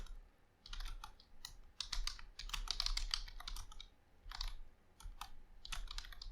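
Computer keyboard typing, close and quiet, in irregular bursts of rapid key clicks separated by short pauses.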